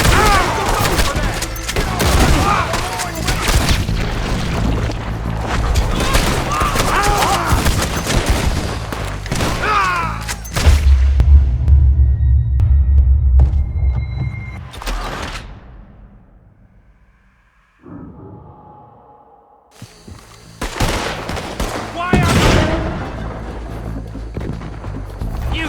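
Rapid bursts of gunfire in a video game shootout during a moonshiner bust, dense volleys and heavy booms for long stretches, easing into a quiet gap before firing resumes, with voices shouting between shots.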